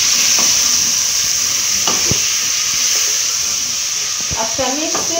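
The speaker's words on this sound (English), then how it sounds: "On our next ingredient, we are going to put some tomatoes. Then you mix them together." Tomatoes are stirred into beef frying in a pan, giving a steady loud sizzle with a few scraping and clattering stirs of the spoon and no talk.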